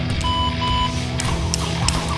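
A workout timer for a jump rope session sounds two short electronic beeps near the start, followed by further faint beeps over steady background hum.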